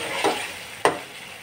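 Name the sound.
chickpeas frying and being stirred in pan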